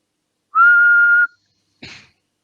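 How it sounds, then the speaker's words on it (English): A person whistles one steady, clear sustained note close by, then gives a short, breathier second burst after a brief pause, with silence around it. "Was that you whistling?"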